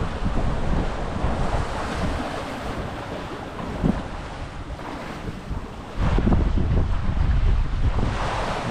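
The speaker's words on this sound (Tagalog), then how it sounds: "Magkasalungat po yung hangin." Wind gusts at sea beside a moored fishing boat, a steady blustery roar over broadband wave wash that swells louder in the last few seconds, with no talking.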